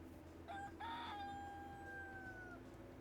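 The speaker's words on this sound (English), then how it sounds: "When did I get a rooster?" A rooster crows in the farming game Dinkum: one drawn-out, clear cock-a-doodle-doo that rises and then holds a long, steady tail, heard at moderate distance over a low ambient hum.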